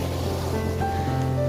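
Sea waves wash ashore at Negombo beach in a steady, broad roar of surf, mixed with wind noise and some low hum from nearby boats.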